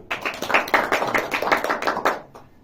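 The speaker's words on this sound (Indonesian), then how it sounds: "Beri tepuk tangan untuk Mbak Iki." Classroom audience clapping for a student presenter in an Indonesian lesson, a burst of distinct, fairly quick hand claps from a small group, close and steady for over two seconds before fading out.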